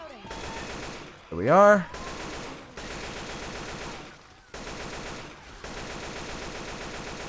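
Sustained automatic gunfire from Left 4 Dead 2 rattles in long continuous bursts with brief pauses between them, and a short spoken phrase and an electronic chirp break in near the start.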